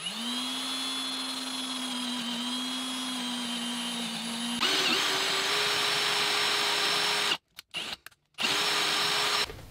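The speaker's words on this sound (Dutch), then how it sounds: "het is zo dun dat ik denk dat ik gewoon met een gewone forstenerboor hier prima doorheen kom" A power drill drives a Forstner bit through a thin panel for a starter and ignition panel, giving a loud steady whine that shifts pitch midway, then cuts out briefly in stutters before resuming alone.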